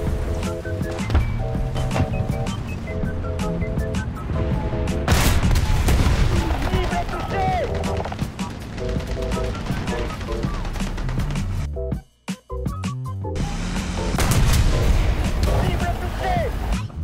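Bombs burst around the player in the War Thunder combat game, heavy booms and gunfire crashing almost without pause under game music and voices, with a short silent gap before the barrage resumes.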